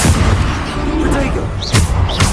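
Bombarda blasting spell explosion in Hogwarts Legacy on PS5 during a combat trial, a short booming burst near the end of a dense, continuous mix of spell effects and music, with brief voice-like shouts.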